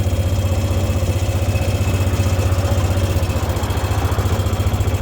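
A Massey Ferguson 180 tractor engine idles steadily at a farm equipment sales lot, a continuous low throbbing chug that stays close and even throughout, with no voices.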